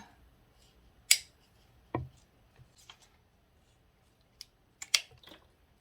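A few sharp, separate snips from scissors cutting plant roots, close by, scattered across several seconds with quiet gaps between them and no talking.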